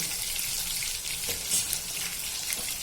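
Bombil fish coated in besan batter frying in hot oil, giving a steady, close, bright sizzle with small crackles throughout and no talking.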